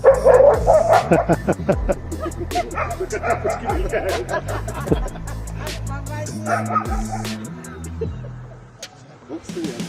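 A family dog barks and yips at a hungry bear that has wandered up to a house, loud and close at first, then in scattered bursts with whimpers and voices mixed in over the ten seconds.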